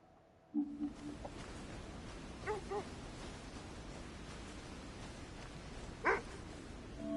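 Dogs in the video game Kona II: Brume give a few short yips and barks, one early cluster, a faint pair midway and a sharper call near the end, heard over a steady wind-like game ambience.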